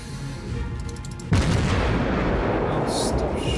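Warship guns firing in World of Warships, a loud booming salvo that erupts suddenly and rumbles on with lingering blast noise, faint chatter underneath.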